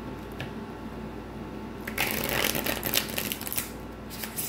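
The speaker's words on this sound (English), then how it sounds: "Okay, last shuffle." Tarot cards being shuffled by hand: quiet at first, then a burst of crisp, rapid riffling and slapping for the last couple of seconds, close and with no talking.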